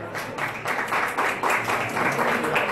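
An audience at a live cooking show demonstration in Seville claps together, giving a steady, fairly close burst of applause that runs the full three seconds.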